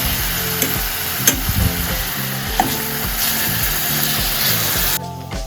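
Pastelitos fry in a pan with a steady, loud sizzle and bubbling oil throughout, and a few stirring clatters, before the sound cuts off abruptly near the end.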